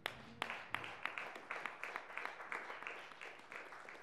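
A church congregation claps together during a worship service, a steady run of fairly even, moderately quiet hand claps with no talking over it.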